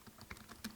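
Keyboard keys tapped while a social media post is typed, a quick irregular run of close, light clicks with no voices.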